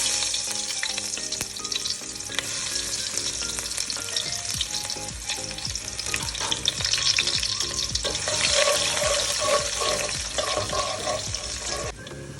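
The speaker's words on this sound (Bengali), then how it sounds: "তেল গরম হয়ে গেছে, পেঁয়াজ দিয়ে দিলাম।" Onion dropped into hot oil for a prawn and Malabar spinach dish gives a loud, continuous sizzle with crackles and scraping stirs, swelling in intensity toward the end, up close and without speech.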